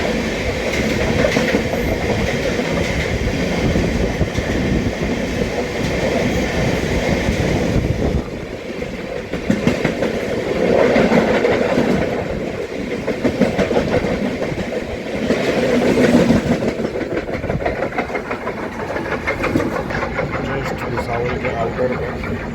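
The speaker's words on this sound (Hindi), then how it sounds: "तो देखा क्रॉसिंग हो रही किसी ट्रेन से।" A passing train crosses on the adjacent track, a steady rumble with rhythmic clickety-clack of wheels over rail joints lasting throughout, loud and close, heard from aboard a train traveling from Lokmanya Tilak Terminus to Prayagraj via Jabalpur.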